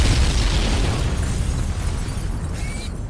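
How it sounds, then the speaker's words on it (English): A large explosion from the Shadow Complex video game, with the vice president blown up, rumbles as a sustained loud roar full of low-end boom that slowly trails off over a few seconds, with no talk over it. "the vice president ends up blowing up in an explosion"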